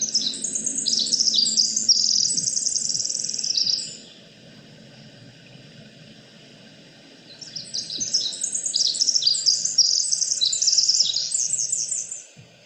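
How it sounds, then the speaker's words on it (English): Pacific wren song rings out in a coastal rainforest, two long, rapid cascades of high, tumbling trills and warbles separated by a few seconds of quiet, loud and close against faint ambient hiss. "the bird we chose was the Pacific wren"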